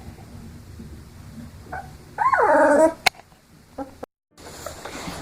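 Young puppies whimper, with one rising, wavering whine lasting under a second amid quieter yips and small sounds, close by, with faint soft voice-like noise around it.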